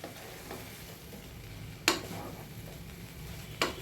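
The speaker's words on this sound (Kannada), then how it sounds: "ಈಗ ಪೀಸ್ ಮಾಡಿ ಇಟ್ಟಿದ್ದು ಬ್ರೆಡನ್ನು ಇದ್ರಾಗ ಹಾಕ್ಕೊಂಡು ಫ್ರೈ ಮಾಡ್ತೀನಿ ರೀ" Bread pieces frying in oil, a soft, steady sizzle heard close up, with two sharper scraping clatters from stirring.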